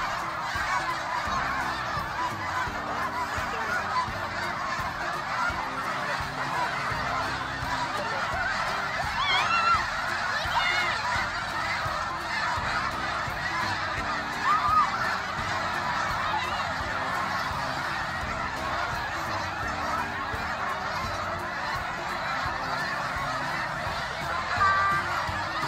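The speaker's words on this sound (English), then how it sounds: "Watch as this airborne flock spirals round and round as each group of birds takes their turn to find a good landing spot." A large flock of snow geese circles over a recreation park before landing, honking in a dense, continuous chorus of overlapping calls at moderate distance, with no speech.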